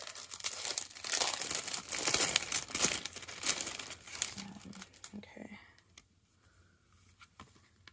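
A 6x8 pad of scrapbook paper is unwrapped, its plastic film crinkling and tearing in close, busy bursts that fade into quieter rustles and a few soft taps near the end.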